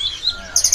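A cucak biru bird, offered for sale as part of a male-and-female pair, gives bright, high chirps over a faint background hum.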